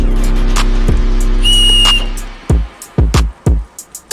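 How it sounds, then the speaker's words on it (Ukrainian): A single shrill whistle blast rings out for about half a second over a steady hum, followed by a few sharp knocks and handling noises. "Свисток допоможе подати сигнал лиха або відлякає тварин"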